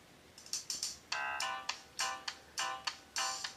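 A ringtone plays from the speaker of a Samsung ATIV Odyssey phone at 24 of 30 volume, a bright repeating electronic pattern of short chiming notes, fairly quiet and close.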